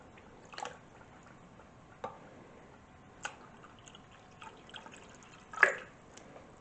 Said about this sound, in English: I'm just going to put cold water in.